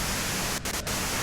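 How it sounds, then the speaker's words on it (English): Steady hiss of white noise from the video game Disco Elysium, broad and constant with two brief dropouts near the middle, no voices over it. "you can do it through the white noise"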